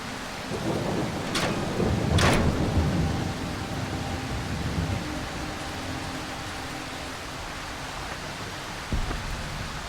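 Rain and thunder in the game Darkwood: steady rain hiss under heavy rumbling, with two sharp thunder cracks early on, then continuous rainfall and a brief thump near the end.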